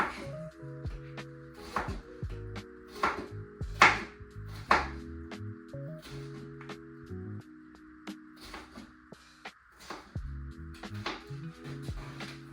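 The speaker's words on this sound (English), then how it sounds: "Don't mind my cutting." A knife chops food on a cutting board with irregular, sharp, close strikes, some in quick bursts and others spaced apart, over steady background music.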